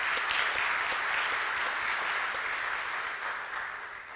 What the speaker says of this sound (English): Let's give her and the whole PCIA staff a round of applause for all the great work they did putting this together.